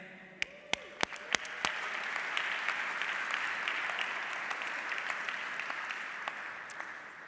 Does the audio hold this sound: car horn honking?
no